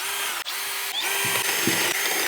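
A power drill drives screws, whirring steadily in short bursts, close by, with a few brief pauses and clicks between runs.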